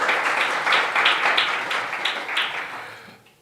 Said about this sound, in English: if you find resources to have a round of applause on their behalf